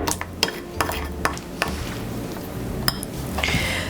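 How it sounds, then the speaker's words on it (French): A spoon stirs a mixture in a container, giving a series of sharp clinks and taps against the sides over a low continuous scraping, close and fairly quiet with no talking. "Tu utilises une cuillère pour mélanger dans un premier temps."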